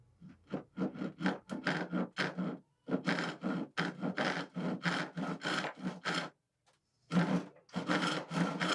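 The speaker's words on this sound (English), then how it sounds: "Let's try ripping a piece of oak." A restored Disston D-8 hand saw rips through a rough, unplaned inch-thick oak board in steady, rhythmic strokes, each rasping push close and loud, with a brief pause before the sawing resumes.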